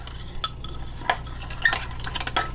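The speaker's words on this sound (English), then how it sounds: "So it involves a lot of mixing" Homemade natural hair dye being stirred and mixed in a bowl, with a utensil scraping and clinking against the sides in uneven bursts over a low steady hum, close and moderately loud, with no talking.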